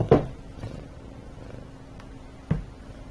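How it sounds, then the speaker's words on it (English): A half-year-old pet cat purrs softly and steadily up close, with a couple of faint bumps or knocks in the background. "he's purring all over the place"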